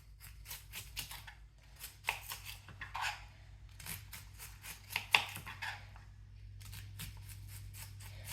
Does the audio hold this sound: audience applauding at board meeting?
no